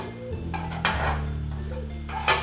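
Spoon strokes scrape and clink against a pan while beetroot thoran is stirred, a few distinct bursts over a steady low hum, close and fairly loud.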